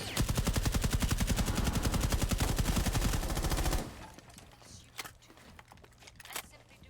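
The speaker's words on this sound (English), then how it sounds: "Plenty of bullets are fired, but no damage has been done to either team." Dense rapid gunfire from a team shooter match, fast automatic bursts loud and continuous for several seconds before cutting off, leaving a faint background with a few scattered distant shots.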